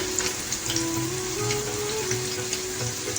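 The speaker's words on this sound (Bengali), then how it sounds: "এই গরম তেলের মধ্যেই পনিরটা ভাজা হয়ে যাবে" Paneer cubes fry in hot oil on a switched-off stove, giving a dense, steady crackling sizzle that runs close and unbroken throughout, with no one speaking.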